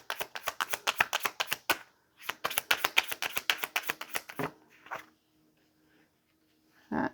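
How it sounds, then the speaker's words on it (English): Tarot cards are riffle-shuffled and drawn in quick rhythmic bursts of flapping clicks, close and crisp, then a pause and a couple of single card snaps. "Let's pull some tarot and get some information here."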